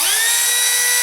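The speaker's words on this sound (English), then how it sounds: "So I'm going to go drill that now." A Dremel rotary tool fitted with a 1/8-inch bit drills with a loud, steady high-pitched whine close up, holding one pitch for the whole moment.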